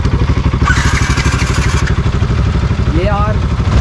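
A modified Bajaj Pulsar RS 200 motorcycle idles up close, its exhaust giving a loud, rhythmic, throbbing note with steady pulses. A voice speaks over the engine.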